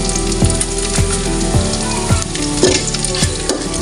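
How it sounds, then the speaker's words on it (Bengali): Dried red chillies and panch phoron fry in hot oil for a pickle, a steady close sizzle with crackles and spoon scrapes, no talking. "এবার একটু ভেজে নিচ্ছি।"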